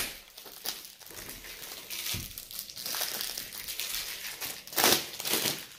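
Plastic wrap is peeled off a PS5 Final Fantasy XVI deluxe edition game box, giving close crinkling and crackling in irregular bursts with sharper tearing snaps near the end, alone without talk.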